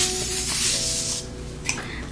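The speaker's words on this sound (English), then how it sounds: "Setting the face today with the Morphe Mattifying Continuous Mist Spray." A close, continuous spray of Morphe Mattifying Continuous Mist setting spray hisses for about a second, then fades to quiet with a few faint rustles.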